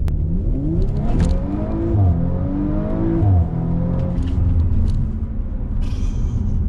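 A 530-horsepower Audi RS5-R, one of only 50 built, pulls hard through the gears, its engine note climbing and dropping with each shift in a loud, close, continuous roar.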